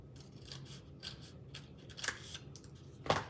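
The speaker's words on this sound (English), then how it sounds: "You're just going to cut a thin strip." Scissors snip through a thin strip of dimensional foam adhesive for a paper-craft treat holder, with soft close rasping cuts building to a sharper, louder snip near the end.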